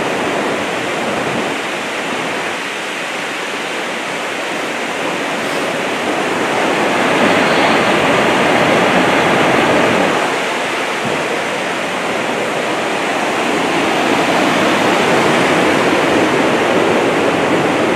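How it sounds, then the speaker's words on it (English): Steady rain pouring down near a bridge at a lake at night, a dense continuous hiss that swells slightly in the middle, loud and unbroken with no voices. "it's raining as well"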